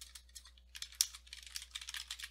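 Typing on a computer keyboard, a quick irregular run of light clicking keystrokes heard alone and close.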